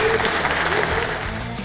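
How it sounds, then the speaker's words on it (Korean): Applause from party lawmakers at a caucus meeting welcoming presidential candidate Kim Moon-soo: a dense, steady wash of clapping from a crowd, with some voices mixed in. "환영과 격려의 박수 부탁드립니다"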